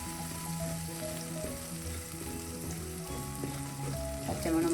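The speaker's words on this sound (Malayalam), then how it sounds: "ഇതെല്ലാം കൂടെ ഒന്ന് പൊടികളെല്ലാം കൂടെ ഒന്ന് നമുക്ക് ഈ ഓയിലൊന്ന് മൂപ്പിക്കാം" Spice powders, including garam masala, fry in oil in a pan for a mushroom roast. A soft, steady sizzle sits under light background music, with a few faint stirring scrapes and no speech.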